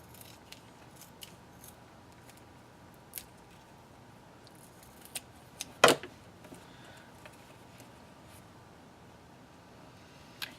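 Scissors snip paper and tape while trimming a basic shaker card, a few faint, sparse cuts in a quiet room with one louder, sharper snip near the middle.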